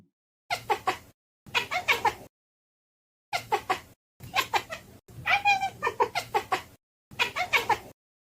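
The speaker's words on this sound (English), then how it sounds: "It's just a cat chirping." A cat makes a series of short chirping meows in separate bursts with brief pauses between, close and clear.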